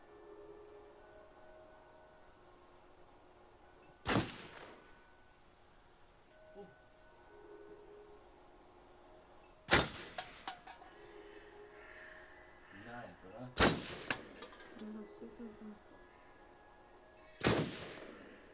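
A few loud, sharp gunshots ring out from the video game Until Dawn, spaced several seconds apart, with quieter game ambience and faint voices in between.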